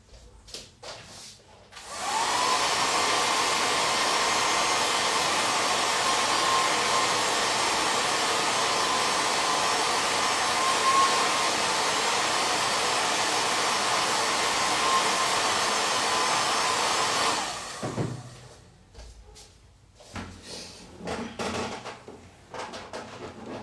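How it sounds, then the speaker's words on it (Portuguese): A hair dryer blows continuously and loudly for about fifteen seconds, drying watercolor paint on fabric, switching on and off abruptly, followed by quieter handling and rustling sounds. "vou só passar um secador rapidinho no rosto dele pra gente fazer o cabelo"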